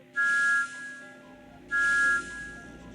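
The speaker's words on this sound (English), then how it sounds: "The whistle that doesn't belong to one of these engines must be James's." Two bright, sustained whistle blasts from James the engine in the Thomas & Friends game Trouble on the Tracks, each about half a second long and separated by a short pause, clear and close.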